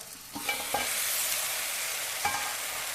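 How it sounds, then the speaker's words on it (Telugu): Bitter gourd (karela) fry sizzles steadily in a pan while a spatula stirs it, with a few distinct scraping strokes over the continuous close frying hiss. "ఇప్పుడు ఈ ఉడుకుతున్న కాకరకాయలు మనము కలుపుకొని"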